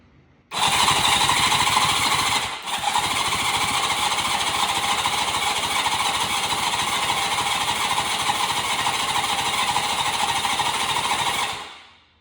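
A street bike engine swapped into a lawn mower cranks without catching, a loud continuous whining starter drone with a rapid pulsing churn, close by, lasting about eleven seconds with one brief hitch near the start before it cuts off.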